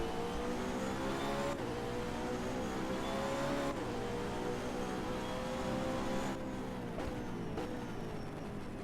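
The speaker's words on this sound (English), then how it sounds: "Let's just stop speaking and listen to that BMW." A BMW GT race car in a racing video game, engine loud and steady with pitch climbing through gears and dropping at shifts, other cars roaring close behind it in a Brazil round of an online GT series.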